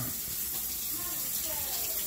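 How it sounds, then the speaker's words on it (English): A kitchen tap runs steadily as hands are washed while making cookie dough, a constant close hiss of flowing water with faint voices underneath. "And wash my hands again."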